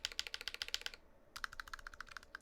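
Typing on a Drop Alt high-profile mechanical keyboard fitted with Gateron Yellow switches and PBT keycaps gives a close, rapid run of crisp keystrokes. They stop for a brief pause, then carry on without any talk.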